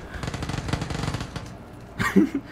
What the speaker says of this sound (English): There's all the gunfire and where they're shooting and everything.